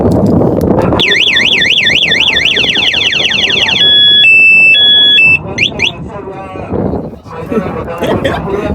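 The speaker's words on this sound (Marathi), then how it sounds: "कसा वाटला गाडीचा हॉर्न?" A car's loud electronic siren-like alarm tone at a village cricket match, sweeping up and down and then switching to steady beeps and chirps, with crowd noise and talk around it.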